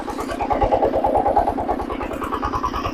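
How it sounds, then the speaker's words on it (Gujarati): Small mini tractor engine running in a cultivated flower field, a close, steady chugging pulse with a rapid, even rhythm throughout. "ફૂલ ખેતી કરેલું પડવું છે આપણું આ, તો પણ આ ટ્રેક્ટર ચાલી શકે છે."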